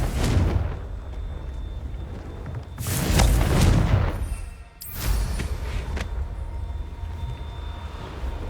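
A fire spell explodes in the wizarding video game Hogwarts Legacy, with a loud booming blast midway that rumbles and fades, and rumbling noise before and after it, without any talk.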